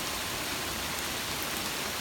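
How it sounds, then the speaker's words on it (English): Steady rain pours onto garden seedlings in July, a dense even hiss of drops that holds constant and fairly loud throughout, with no voices. "We still got us a good rain"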